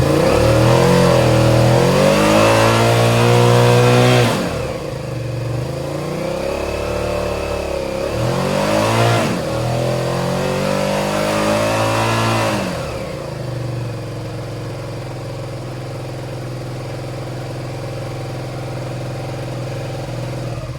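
A Suzuki SV650 motorcycle running on choke on a cold evening revs repeatedly, with three or four rising and falling throttle blips over a mid-pitched engine note, then it settles into a steady, quieter idle, loud and close.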